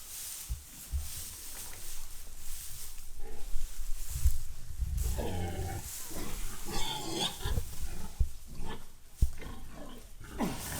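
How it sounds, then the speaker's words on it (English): A huge hog of about 949 pounds grunts and snorts close by in a barn, rough low oinks coming in uneven bursts with shuffling and rustling between them. "That's a big pig"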